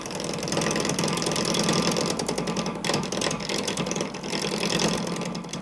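A wood lathe spins a workpiece while a gouge cuts it round, giving a steady close motor drone with rough, chattering scraping throughout.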